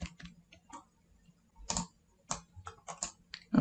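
Quiet, irregular key taps on a computer keyboard while code is typed, in short bursts with pauses, close and soft, with no voices.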